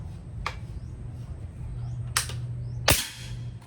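A PCP air rifle fires in a few sharp, separate cracks, the last one loudest, over a steady low hum.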